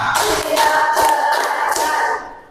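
A classroom group claps hands together in a counted clapping routine led by a teacher, a few sharp rhythmic claps over roughly two seconds, fairly close and loud, fading at the end.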